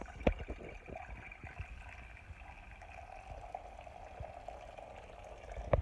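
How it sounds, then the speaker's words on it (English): Boiled water is poured into a pot holding sugar to start kombucha tea, a faint, steady liquid trickle and bubbling with a few soft knocks at the start and end. "Put some hot water, like boiled water, into it."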